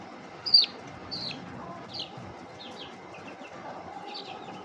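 Chicks and chickens clucking and peeping in a coop while being moved, with a few short high calls near the start, then quieter scattered chirps over a low background hum.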